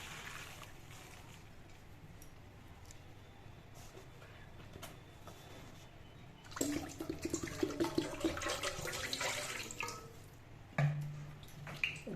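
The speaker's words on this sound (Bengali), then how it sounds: "এরপর বেশ ঠান্ডা জল দিয়ে আমি চাউমিনটাকে ভালো করে ধুয়ে নেব" Cold tap water pours over boiled chow mein being rinsed, starting as a soft background trickle and then turning into a louder, splashing gush that continues to the end.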